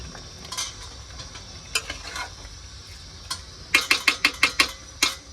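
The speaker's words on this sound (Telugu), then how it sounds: "టమాటాలు వేసుకొని మంచిగా ఒకసారి రౌండ్గా కలుపుకొని" Tomatoes being stirred into chicken curry in a pan, heard as scattered scrapes and clacks of a utensil that turn into a quick run of sharp, evenly spaced taps near the end, with faint sizzling underneath.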